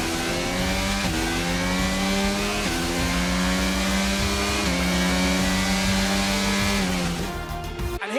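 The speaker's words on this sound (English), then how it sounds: "here's our winner, pulling their Ferrari into Parc Fermé after a fantastic race" A Ferrari Formula 1 car in the F1 22 racing game rolls into parc fermé after a rain-soaked race, its engine droning loud and close with repeated revving swells before cutting off abruptly at the end.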